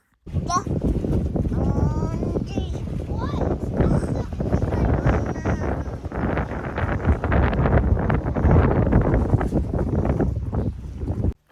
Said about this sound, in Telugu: అసలు ఎంత గాలి వస్తుందో చల్లగా ఉంటుంది అసలు నించోలేము అక్కడ